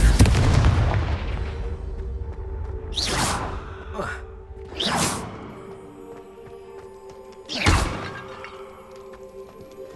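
Fire spell blasts from Hogwarts Legacy, a magic game: three loud whooshing bursts with booming impact, spaced a couple of seconds apart over a low rumbling game background, with a heavier rush at the start.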